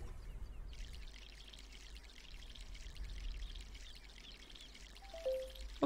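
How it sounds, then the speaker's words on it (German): Plants being watered in the video game My Sims: a soft, steady pouring and splashing hiss runs quietly for several seconds, ending with a brief chime-like game tone. "Und hier wieder gießen."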